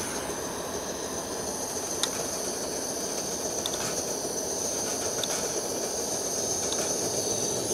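An MSR WhisperLite Internationale camping stove burning steadily, a constant broadband hiss-like roar with faint ticks and clicks, alone with no talk throughout.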